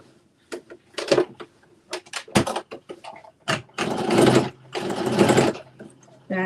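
A sewing machine runs in short bursts and then two longer stretches of rapid stitching as it back stitches on a Simplicity S9822 pattern garment, close and clear, with someone speaking between the bursts.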